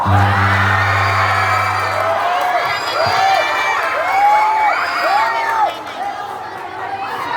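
A lively crowd cheers and whoops in loud, overlapping shouts, with excited voices rising and falling throughout and a brief low tone at the start; clapping is not clearly distinct beneath the cheering.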